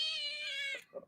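A house cat gives one drawn-out, tonal meow that fades into a short softer mew, close up and clear, with no talking.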